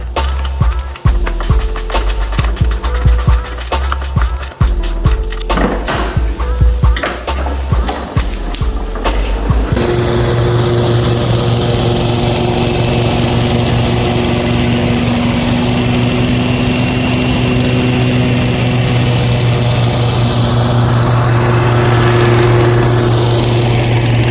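A Timemaster mower fitted with a Kohler CV224 engine and Turfmaster pulleys runs loud and steady, with choppy engine bursts first, then a smooth, even drone under load while mowing.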